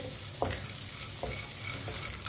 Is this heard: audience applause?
no